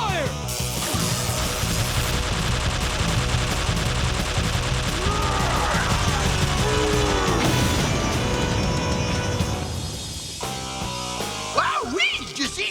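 Blasts from the Tyrannosaurus zord in a Mighty Morphin Power Rangers battle, loud and dense over a heavy soundtrack, with laser-like sweeps and bursts crowding the scene before a brief lull and a few final hits.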